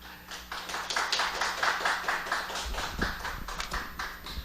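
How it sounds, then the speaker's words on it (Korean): A church congregation claps warmly to welcome a missionary to the front, a dense round of applause that stays steady and fills the room, with a few heavier thumps near the end. "우리 선교사님 나올 때 우리 한번 뜨거운 격려의 박수로 선교사님 한번 맞아볼까요?"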